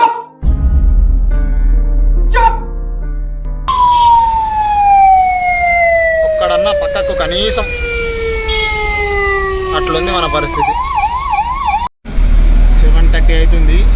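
An ambulance siren wails and sweeps up and down close by while stuck in heavy traffic near Tank Bund, alongside engine noise and someone talking over it.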